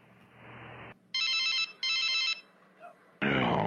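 A telephone rings in two clear electronic bursts, with a faint voice and a short noisy burst before and after, fairly close in a quiet room.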